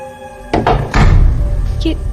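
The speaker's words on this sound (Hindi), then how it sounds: "ये दरवाजा कैसे बंद हो गया? वो भी अपने आप?" A door slamming shut on its own in a Hindi horror story, a heavy close thud followed by a second louder bang with a short rumbling tail, set against a faint steady tone before it.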